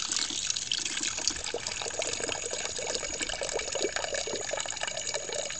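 Water from a DIY rain-catchment siphon pump pours steadily through a pipe, a continuous close trickling gush with no talk over it.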